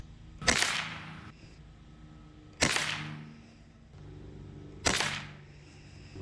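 A Webley Nemesis-X PCP air rifle fires AEA 18 grain pellets at a 25-yard range, three sharp, close cracks spaced about two seconds apart, each followed by a brief rattle and quiet pause.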